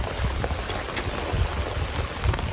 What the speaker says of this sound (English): Bubby, did you know it was raining?